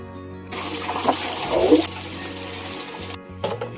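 Grated taro being washed in water, with splashing and sloshing from about half a second to three seconds, a short pause, then a brief final splash; close and moderately loud.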